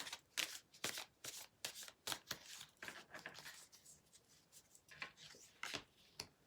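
A deck of tarot cards being shuffled up close: a run of quick papery riffles and slaps in uneven bursts, fairly quiet, with no voice.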